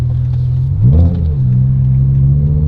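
A modified BMW M5 Touring's F1-derived V10 engine idles with a deep rumble, then revs up sharply and falls back to a steady idle, loud and close.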